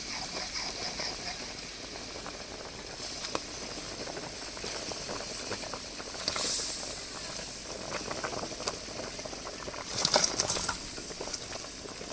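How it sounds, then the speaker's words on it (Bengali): Tengra fish curry broth from the Sundarbans' Bidyadhari river boils in a pot, giving a faint, steady bubbling and light patter with a couple of brief hissing bursts. "ঝোলটা দেখুন টকবক করে ফুটছে"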